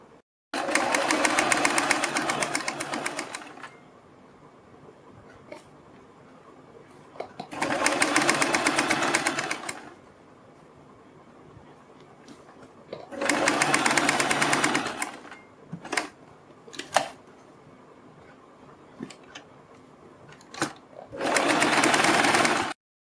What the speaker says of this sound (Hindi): इसके ऊपर एक सिलाई लगाएंगे।